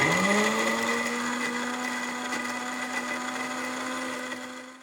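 An electric grinder whirring as it grinds roasted whole spices and coconut powder into masala, a steady close motor whine that winds down at the end.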